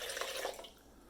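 Hot tap water is poured into a bowl for making bagel dough, a soft close splashing trickle that tapers off, faint overall.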